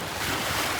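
Waves surge and break along the Manila Bay shore, a continuous loud wash of water mixed with gusting wind buffeting the microphone.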